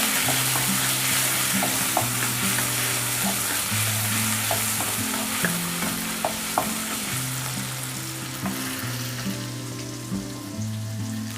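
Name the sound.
ginger and garlic roasting in hot oil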